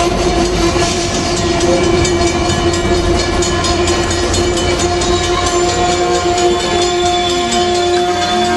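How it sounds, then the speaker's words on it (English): An Amtrak Amfleet passenger train led by F59PHI locomotive 460 rolls past in Southern California, a loud steady rumble and wheel clatter with sustained horn-like tones running throughout. "Notice this is the Amfleet train."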